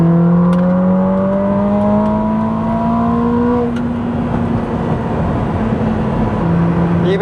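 A Ferrari 849 Testarossa accelerates hard in race mode with its variable exhaust flaps open: a loud, rising engine howl climbs in pitch, drops sharply at a quick gearshift, then builds again.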